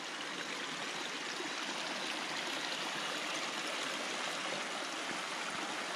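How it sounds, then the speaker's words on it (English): Rain-swollen water pours steadily over a freshly dug check dam spillway, making a small waterfall: a constant, close, rushing splash with no pauses and no voices. "it's almost turned into a little bit of a waterfall after the rainstorm"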